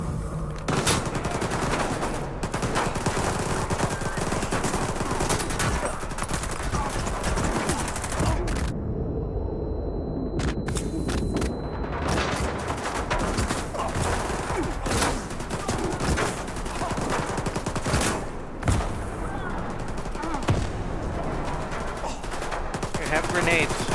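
Rapid gunfire in the video game Stalker 2, with continuous automatic bursts and overlapping shots that stay loud throughout, a brief lull partway through before the firing resumes just as densely.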